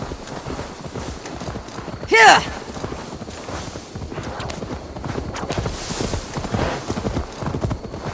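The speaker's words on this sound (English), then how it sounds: "Now to deliver Magni's horse" Horse hooves clip-clop steadily in the Assassin's Creed Valhalla video game, with a brief whinny partway through and speech running over the rhythmic footfalls.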